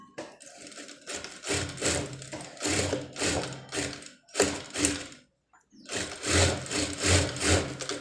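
A sewing machine runs in bursts, stitching a double seam to join the lining panels of a one-piece dress cut from an old saree, with rapid mechanical chatter, a brief pause near the middle, then a steady renewed run close by.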